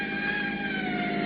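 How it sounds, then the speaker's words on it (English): A distant siren holds a steady, slowly falling tone, sounding sustained and evenly loud with no other sounds over it. "Harry, it does sound like a siren, doesn't it?"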